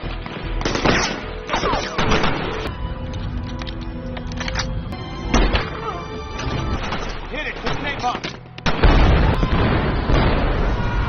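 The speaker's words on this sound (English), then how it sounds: "미리 준비해둔 폭탄을 이용해 무사히 탈출하죠." Bomb blasts and gunfire in an action thriller film, sharp bursts and heavy booms erupting over a dense soundtrack, with a narrator speaking between the louder hits.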